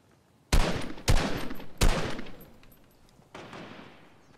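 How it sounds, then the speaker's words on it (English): Sniper shots in Fortnite Chapter 2 ring out as three sharp, loud cracks in quick succession, each trailing into a fading echo, and then a fourth, softer shot follows after a pause. "Just little pop shots every so often."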